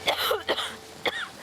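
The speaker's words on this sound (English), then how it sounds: "Well, yes, stop coughing." A person with bronchitis and pneumonia, living exposed in a makeshift island shelter, coughs three times in quick succession. The coughs are harsh and close, with brief gaps between them.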